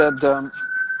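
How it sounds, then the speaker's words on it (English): A siren outside wails with a sustained high tone, heard faintly in the distance behind a brief burst of nearby talking. "sorry about the sirens."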